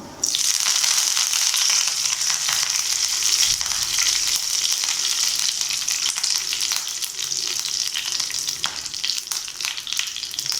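Fennel seeds and curry leaves sizzle steadily in hot oil for tomato rice, a loud, continuous bright crackle with faint scraping, no voices.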